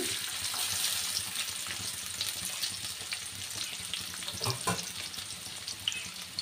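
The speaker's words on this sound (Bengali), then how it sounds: "তেল ঢেলে দিচ্ছি। দিয়ে দিচ্ছি পেঁয়াজ কুচি" Chopped onion sizzles in hot oil in a pan at the start of a bitter gourd fry, a steady close frying hiss with a few stirring knocks.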